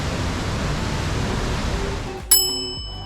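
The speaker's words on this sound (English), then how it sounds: "the Trümmelbach Falls, which are the world's only glacier waterfalls that are accessible underground" Glacier meltwater roars inside the mountain at Trümmelbach Falls, a dense steady rush that continues under a sudden bright metallic ding with a lingering ring near the end.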